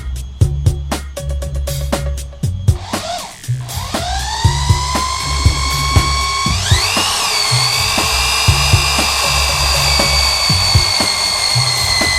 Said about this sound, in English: this is where I'm going to drill the first two holes